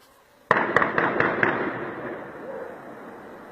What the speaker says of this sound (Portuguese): Um morador registrou de sua casa um dos momentos em que os tiros foram disparados.